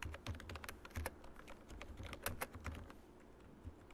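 Steady typing on a computer keyboard while a simple shell script is written: quick, irregular key clicks close up and fairly quiet, with no talking.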